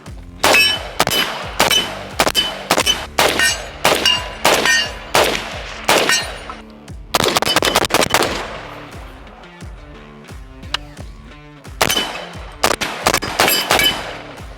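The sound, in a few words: 300 BLK pistol gunshots hitting steel targets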